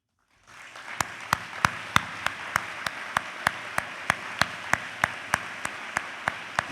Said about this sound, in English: ask all our advisors, our professional advisors, to please stand up and give them a round of applause